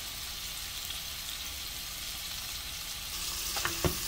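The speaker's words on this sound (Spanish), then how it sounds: "Y los vamos a dejar cocer los vegetales a alrededor de 5 minutos o hasta que ya los veas acitronados, blanditos" Vegetables for a pasta dish seasoned with pepper and salt sizzle steadily in a pan, a soft continuous hiss with a couple of brief clinks of stirring near the end.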